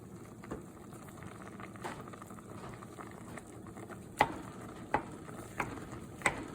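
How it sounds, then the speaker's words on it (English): A pot of stew with meat chunks simmers on a stovetop, giving a steady low bubbling patter with a few sharp clinks and scrapes from occasional stirring; no voices. "As the chunks started to boil down and the sauce began to appear, I decided to add a little more water."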